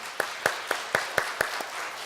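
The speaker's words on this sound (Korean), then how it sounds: "박수로 환영해 주시죠" Slow, sparse claps ring out at a church Sunday service as the congregation welcomes a visiting missionary family, about seven distinct hand claps spaced evenly, fairly soft and roomy.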